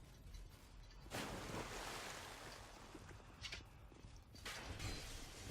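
In Dark Souls 2, a water-like ambient glitch plays as a steady washing, surf-like rush with swelling gusts, faint and continuous as if surrounded by a pool of water.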